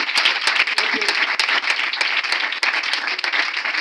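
A church congregation applauds during a Sunday service, with dense, loud, sustained clapping from many hands filling the room without a break.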